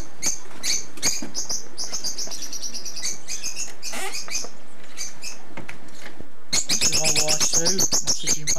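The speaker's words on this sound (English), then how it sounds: "Behind us are our lovebirds." Pet lovebirds in an aviary give sharp, rapid chirps and squeaky calls in irregular bursts, loud and close, ending in a dense flurry of repeated tweets.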